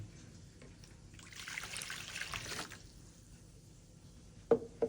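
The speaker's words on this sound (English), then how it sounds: "Start by pouring the water into a bowl." Water trickles and pours into a bowl for pizza dough, a soft splashing stream for about two seconds in a quiet kitchen, followed by a couple of light knocks.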